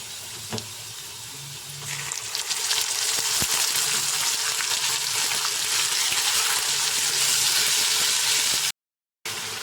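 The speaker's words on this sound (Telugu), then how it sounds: "ముందుగా మనం ప్రిపేర్ చేసుకున్న మసాలా పేస్ట్ అయితే వేస్తాను" Masala paste fries in hot oil for a korramenu fish curry, a loud, steady sizzle that swells after a sharp start and continues close up until a brief cut near the end.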